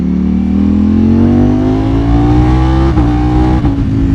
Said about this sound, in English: This is a much louder motorcycle.